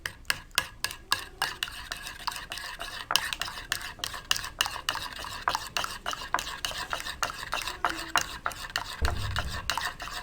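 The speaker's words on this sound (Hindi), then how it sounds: "आप दही को किसी भी बीटर या किसी भी चीज़ से ना फेंटें, बल्कि इसको चम्मच की मदद से ही फेंटें।" Yogurt is whisked with a spoon in a bowl for a spicy green herb chutney. Quick, rhythmic spoon taps and scrapes against the bowl repeat steadily up close, with no talk.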